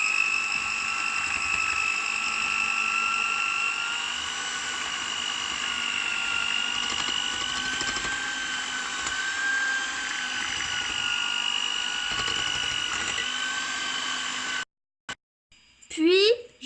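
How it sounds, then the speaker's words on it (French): An electric hand mixer beats cake batter for a strawberry fraisier, giving a steady, close, high-pitched whine with a faint hum underneath. It runs unbroken for about fourteen seconds, then stops abruptly, followed by a brief rattle. "je mélange au batteur électrique"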